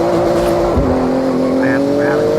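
Porsche 911 Turbo S in the racing game Forza Horizon, engine droning steadily with a pitch dip and rise as it shifts gears, loud and continuous with brief tire chirps later.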